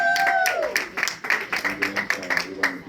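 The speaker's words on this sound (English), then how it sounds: "Y'all give her a strong round of applause." A crowd at a Kwanzaa celebration at the DuSable Museum applauds, and its clapping comes as rhythmic, evenly spaced bursts while voices cheer and call out over it.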